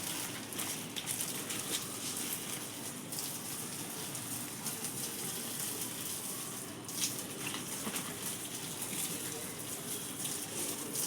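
A man waters garden plants such as tulsi, balsam seedlings and crown flower on a hot day, giving a steady, close hiss and patter of water spraying onto leaves and soil throughout, with no talk.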